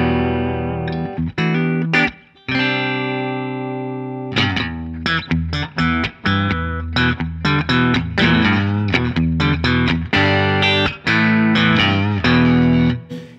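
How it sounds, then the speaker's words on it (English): Distorted electric guitar notes and chords through a Two Notes Torpedo Remote crypt reverb preset ring out one after another, washed in heavy reverb that lingers between phrases. "Now let's add a little bit of reverb."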